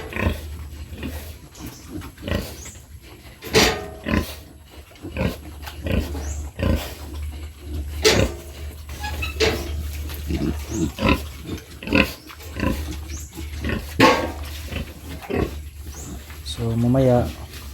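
Piglets squeal in bursts on a pig farm, loud and close, over a steady low hum, with people talking throughout.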